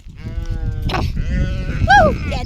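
Sheep bleat close by, one long wavering cry followed by a sharper, higher bleat, with faint background murmur.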